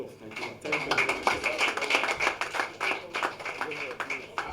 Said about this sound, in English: I think the national chairman deserves a better applause.